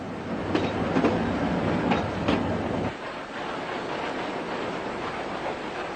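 A preserved historic train runs on rails along a gorge route, giving a steady rumbling roll with rhythmic clickety-clack beats in the first half before settling into a quieter continuous rumble.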